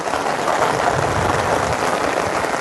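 Sudden heavy rain pours down steadily at a well-digging site, a dense, even hiss of drops with no gaps, close and loud throughout.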